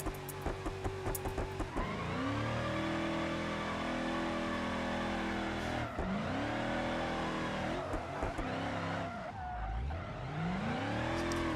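A car drifting in the BeamNG driving game, steered with a Moza direct drive wheel: a loud sustained engine that rises and falls through revs, with tire squeal as it slides.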